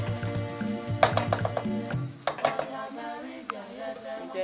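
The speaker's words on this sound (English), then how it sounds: "So I'm going to add my blend vegetables, which is the tomato plum, chili pepper, garlic," Blended tomato, chili pepper, garlic, onion and ginger hit a hot pan for okra stew, crackling and sizzling in bursts with a few utensil clinks, close and moderately quiet, with no talking.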